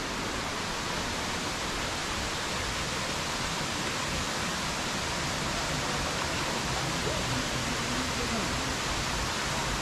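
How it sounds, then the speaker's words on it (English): A steady, loud rush of the Blue Morpho waterfall at Mistico Park near La Fortuna, Costa Rica, roars continuously, a dense and unbroken wash of white noise with no pauses. "Blue Morpho waterfall."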